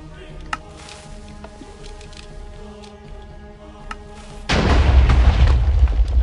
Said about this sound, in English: I'm going to start with the gun elevation at its minimum, shooting straight forward, so you can see how far that shoots.